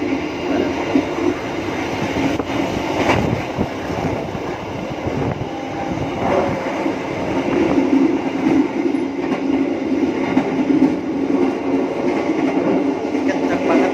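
Loud rumbling train noise comes up through an opened toilet chute on an economy-class passenger train in Indonesia, a steady roar of wheels and rails that swells louder midway, with a voice speaking briefly over it.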